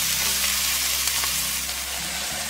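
Vegetables fry in a pan, softening in a steady, close crackling sizzle with a low hum beneath.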